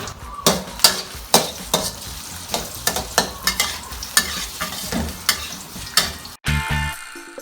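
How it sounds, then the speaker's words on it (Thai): Shiitake mushrooms stir-fry in hot oil, a steady sizzle broken by repeated sharp scraping strokes of a utensil, then a brief clatter at the end. "เราจะเอาตัวเห็ดหอมนะคะ ลงไปผัดกับน้ำมันก่อนเลย"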